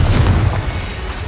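Confringo explosion spell cast in Hogwarts Legacy, a loud, booming low blast that rumbles densely through the whole moment with no voice over it.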